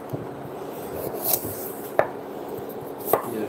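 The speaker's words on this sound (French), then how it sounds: "mes carottes, je vais les couper finement pour que ça cuise bien sûr beaucoup plus vite" A kitchen knife finely chopping carrots on a board, a few sharp, separate cuts spaced about a second apart over a soft rubbing background, close and clear with no talk.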